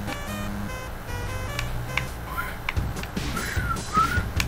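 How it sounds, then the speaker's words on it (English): A single person whistles a few short, sliding notes, faint and somewhat breathy, over a steady, fairly loud bed of background music. "I'm trying to hit that note with a whistle."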